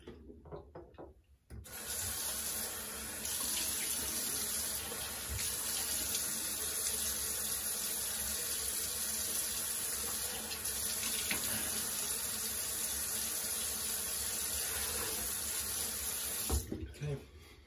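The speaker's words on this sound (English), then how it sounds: "So I'll rinse my face off with cold water." Cold tap water runs steadily into a sink while a face is rinsed, a close continuous splashing that starts after a short pause and stops near the end, with faint rubbing of hands.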